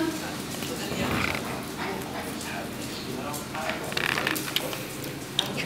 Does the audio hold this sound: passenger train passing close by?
no